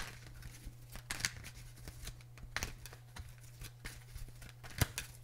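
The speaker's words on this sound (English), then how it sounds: "I'm sorry if I shuffle too much" Soft, quiet card shuffling with short papery riffles and flicks in irregular bursts, close by and faint over a low steady hum.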